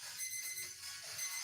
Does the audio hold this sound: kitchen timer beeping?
yes